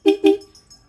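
Two quick, close motorcycle horn beeps from a Yamaha Sniper 150 sound in rapid succession, short and nasal, followed by a brief fading tail.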